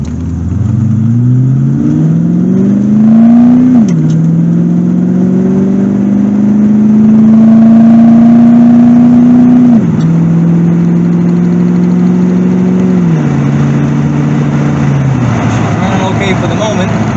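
A C4 Corvette engine accelerating through several gear shifts while running rough and missing, a loud, close in-car drone that rises, drops and climbs again.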